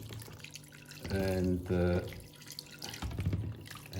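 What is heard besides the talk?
tap water filling a container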